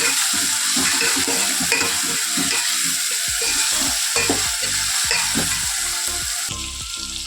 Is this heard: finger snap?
no